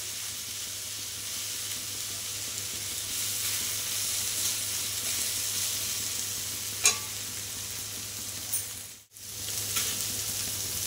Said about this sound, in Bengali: এটাই এইভাবে ভেজে ভেজে ভেজে ভেজে নামাবো